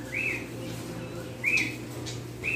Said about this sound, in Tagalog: Meron din silang mga ibon dito. Dami.